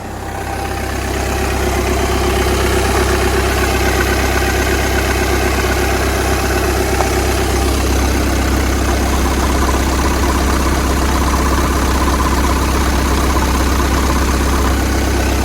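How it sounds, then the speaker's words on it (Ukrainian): The 2.0 TDI diesel engine of a 2010 Audi A6 C6 idles steadily and loudly, a low even rumble with a slight mechanical vibration that holds constant after it starts. "Йдемо, почуємо, як працює двигун."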